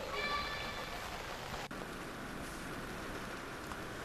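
Rain falls steadily across the Rajkot area, a faint, continuous hiss of drops with no clear break or change.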